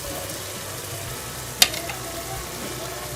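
Chicken karahi with chopped green chilies and coriander sizzles steadily in a pan, a soft continuous frying hiss with one brief sharp scrape of a spoon being stirred through it.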